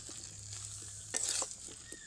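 Boiled red potatoes and spices being stirred and roasted in a pan over low heat with no oil, for aloo dum; quiet scraping strokes over a soft sizzle, with a brief louder stir near the middle.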